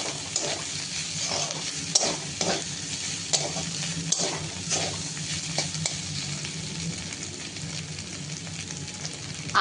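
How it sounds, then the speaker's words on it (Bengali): Potato, onion and egg sizzle and fry in a pan for homemade chowmein, with steady crackling and scattered clinks from stirring, close and continuous with no talk. "আলু, পেঁয়াজ আর ডিম দিয়ে ভাজা করে ঘরোয়া পদ্ধতিতে চাউমিন করছি।"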